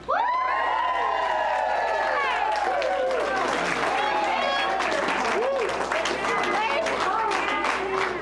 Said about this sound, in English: we offer a cheer to Queen Nancy, who celebrates her 90th year.